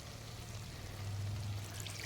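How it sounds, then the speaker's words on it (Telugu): Water pours steadily into Telangana-style chicken curry cooking in a pot, a soft, continuous rushing stream that thickens briefly midway, heard close with no voices. "మేము వాటర్ యాడ్ చేస్తున్నాం కదమ్మా"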